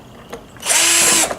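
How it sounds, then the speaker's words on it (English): A power drill bores out the stitching on a Chevrolet S10 door panel, whining loud and steady for about half a second after a faint lead-in, then stopping abruptly. "If I drill out all the places that were stitched"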